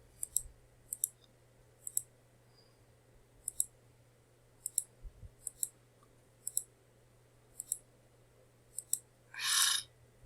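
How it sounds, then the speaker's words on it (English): A computer mouse clicks about a dozen times, crisp and close, at a fairly regular pace in an otherwise quiet room, followed by a brief louder rustle at the end. "We're simply going to click on the select all."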